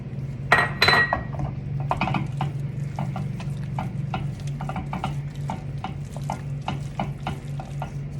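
Choux pastry dough with egg for gougères is stirred in a pot with a spoon, making a steady series of sticky, slapping stirs and light clinks against the pot, with a couple of louder scrapes early on.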